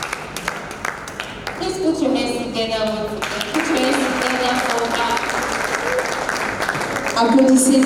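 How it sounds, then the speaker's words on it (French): An audience at a talk on women's fundamental rights in Benin applauds steadily, a dense wash of clapping that carries on throughout while a voice speaks over it. "Please put your hands together for"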